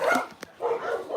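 A big dog at an animal shelter gives a couple of short barks and yips, close and fairly loud, with brief pauses between bursts and no talking.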